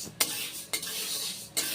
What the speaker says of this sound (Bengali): শুকনো কড়াইতে ডালটাকে যেভাবে শুকনো খোলায় ভেজে নিতে হয় সেভাবেই ভেজে নেব।